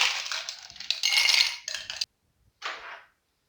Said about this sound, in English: Drop a few ice cubes in there.